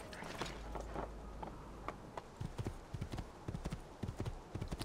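Horse hooves clip-clop at a walking pace in the video game Assassin's Creed 2, a steady series of soft hoofbeats over faint ambient game background, no speech heard.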